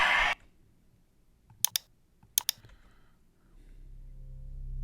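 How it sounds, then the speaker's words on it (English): A computer mouse gives two separate double clicks, each a crisp, close pair of taps, in an otherwise quiet room with a low hum. "I'm going to double click that."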